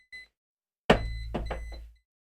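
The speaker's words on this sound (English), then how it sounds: "Oh, that's the timer" An electronic timer goes off with a brief first tone, then a louder run of pulsing beeps that lasts about a second before cutting off.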